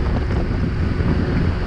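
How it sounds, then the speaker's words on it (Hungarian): Strong gusty wind buffeting the microphone outdoors on a dirt road ride, a dense continuous low rumble with fluctuating roar and no speech. "Mondjuk elég nagy szél van,"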